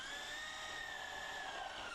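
A power drill drives self-drilling, self-tapping neoprene washer head screws through a stone panel attachment plate, giving a steady, loud high-pitched motor whine that holds for about two seconds without a break.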